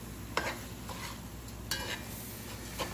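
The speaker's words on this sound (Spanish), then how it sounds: "Le vamos a subir el fuego y lo vamos a sofreír un rato." Rice stirred and sautéed in a pot over raised heat, with a soft continuous sizzle and a few distinct scraping strokes of the spoon spaced a second or so apart, close and fairly quiet.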